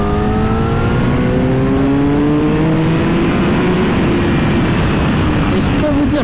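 A 2024 Honda CBR1000RR-R Fireblade SP with 217 horsepower accelerates hard on a drying race track, giving a loud, continuous engine roar with rising tones mixed with heavy wind rush.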